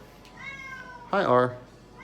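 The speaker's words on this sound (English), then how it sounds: "That's the kitty." A single close cat meow, short and rising then falling, following a quieter tonal sound.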